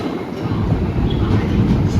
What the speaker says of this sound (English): This is the Brussels S train style of train with just a single level